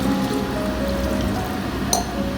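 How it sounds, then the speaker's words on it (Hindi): A glass of water is poured into a pot of paya curry made with trotters, producing a steady, continuous splashing gush that stays loud and even from start to finish. "और अगर आप चाहते हैं कि हल्का सा शोरबा हो तो फिर हम इसमें 1 गिलास पानी ऐड कर देंगे।"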